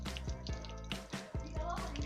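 Water dripping and trickling out of the base of a potted Monstera after a thorough watering, with soft repeated drips and small splashes close by, alone.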